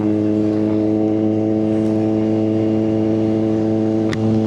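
Loud, steady motorcycle engine drone and wind roar heard from the rider's helmet with the visor open, constant throughout with a brief click near the end.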